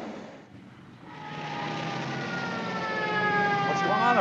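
Police car sirens rise out of a quiet moment and grow steadily louder, a wailing, sweeping tone that approaches from a distance and fills the last seconds, with no talk over it.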